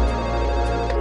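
A telephone ringing in a Hindi TV news channel promo, a loud steady electronic ring with sustained tonal layers filling the whole moment, no speech over it.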